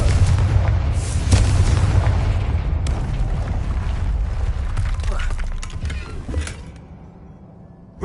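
Booming fiery blast from the Confringo spell in the video game Hogwarts Legacy, a loud sustained low rumble with crackling bursts that fades out near the end, with a voice speaking.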